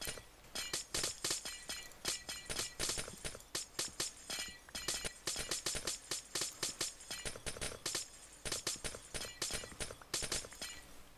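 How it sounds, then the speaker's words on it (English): Glass blocks in Minecraft shatter one after another as a silk touch pickaxe breaks through them, a rapid, loud series of crisp crashing breaks with brief pauses, no voices. "I've got this silk touch pick and I can breeze through all of this glass now"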